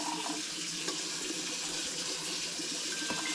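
Cold water running from a tap into a cup of coffee, a steady close hiss and splash of flowing water that continues without break, fairly loud, with no voices.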